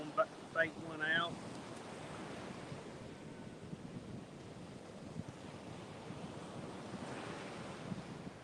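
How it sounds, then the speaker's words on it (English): Strong wind roars steadily across a microphone at the beach during surf fishing, with waves washing in the background; a few brief voiced sounds break through near the start, then the gusty rumble continues alone. "It is very windy here."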